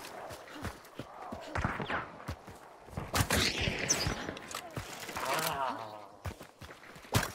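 Rapid gunfire in a video game shooter, a dense string of sharp cracks and bursts scattered across the passage with some softer thuds between, close and fairly loud, while a player talks over parts of it.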